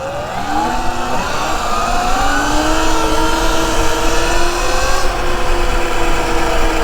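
A 72-volt, 12,000-watt Sur Ron electric bike accelerates hard, its motor whine climbing steadily in pitch over road and wind noise with no talking.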